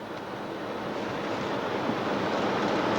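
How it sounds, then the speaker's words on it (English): Heavy rain drums on a truck during a 1990 flood in Fayetteville, Tennessee, a dense, steady hiss and patter heard from inside the cab, gradually swelling slightly louder. "I'm just sitting in the truck because it's raining so hard."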